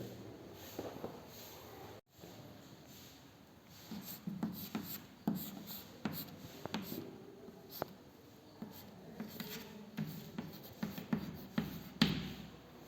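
Marker or chalk writing on a board during a chemistry class on alcohols, phenols and ethers, with intermittent scratchy strokes and taps coming in short bursts, close and moderately quiet, alone without talk.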